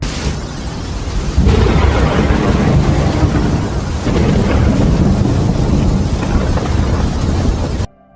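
Heavy rain pours steadily on a tiny island while deep rumbling thunder rolls through, swelling louder after the first second and continuing as a dense, loud wash throughout.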